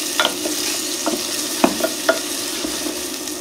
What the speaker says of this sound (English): So we'll make sure we sweat those onions on a low heat so we don't create any color to them.